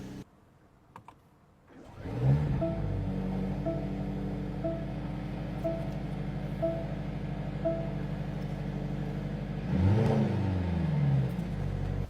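Mercedes-Benz C63 AMG plug-in hybrid driven in comfort mode, with a quiet interior drone that rises sharply as the engine starts and pulls away, then a steady hum of harmonic engine tones and a brief surge in revs near the end.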